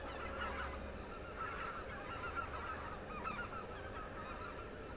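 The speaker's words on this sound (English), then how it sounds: "Yeah, a lot of geese coming over tonight." Geese flying overhead at night, a flock honking repeatedly at a distance in overlapping calls over a low steady background hum, with no talk.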